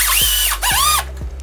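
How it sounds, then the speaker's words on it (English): A power drill drives screws into plastic wall anchors while a Honeywell T9 thermostat is mounted, with three short whining bursts of rising and falling motor pitch, close and loud. "I'm gonna put the top screw first, and I won't put it all the way"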